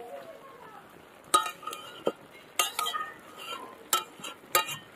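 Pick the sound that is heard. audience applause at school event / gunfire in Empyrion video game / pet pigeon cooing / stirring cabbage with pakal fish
stirring cabbage with pakal fish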